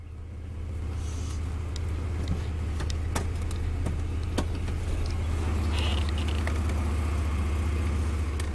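A rebuilt Chevy Blazer truck engine with about 140,000 miles runs at a steady idle, with a continuous low rumble and a few faint clicks over it, moderately close with no talking.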